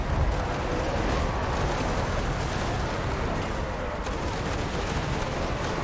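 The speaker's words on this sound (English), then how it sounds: "the Eisen bombers are getting some shots in now" Steady, dense gunfire and distant explosions from Eisen bombers roll on continuously in a Total War Warhammer 2 battle, a loud, unbroken wash of shots with no clear pauses.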